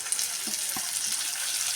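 Lentils fry in a pan for a sambar, giving a steady, bright, close crackling sizzle with a couple of faint soft knocks and no voices.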